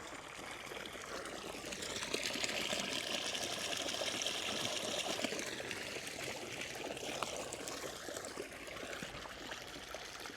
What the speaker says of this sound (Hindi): अभी हम दोबारा पानी पिएंगे एकदम